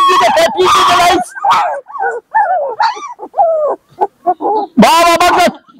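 Puppies for sale whimpering, yipping and barking in short, high bursts, close by, with someone talking between the cries.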